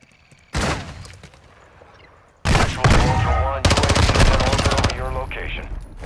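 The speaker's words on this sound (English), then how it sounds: "The bots are shooting me." Gunfire from bots in the Call of Duty DMZ video game: a sharp shot, then loud sustained bursts of automatic fire close by, with game sounds and a voice faintly mixed in.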